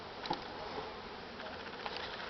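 Bees buzz during an inspection of a strong beehive, a faint continuous droning hum with a few closer passing buzzes, no talking.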